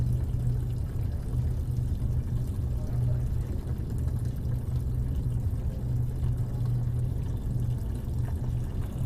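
Tap water runs steadily from a household tap while the boiler heats up, a continuous low, even rushing that holds at the same level from start to end with no talk.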